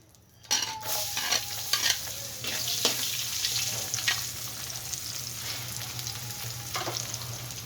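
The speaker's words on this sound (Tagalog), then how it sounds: "sa puntong ito magigisa muna tayo ng bawang" Garlic dropped into hot oil for Filipino bistek, an abrupt loud hiss that settles into a steady sizzle, with intermittent stirring scrapes and a low hum beneath.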